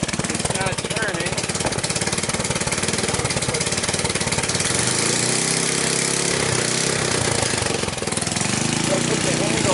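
A 150cc X-treme ATV engine runs loudly and steadily close by, its drive chain spinning, with a continuous rough mechanical drone filling the whole stretch.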